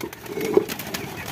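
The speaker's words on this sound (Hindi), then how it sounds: "वो बैठा हुआ है जो कबूतर है" A pigeon at a small home zoo gives a single short, low coo, close by, amid light background noise.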